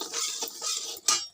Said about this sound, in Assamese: এতিয়া মই সুজিখিনি ভাজি আছোঁ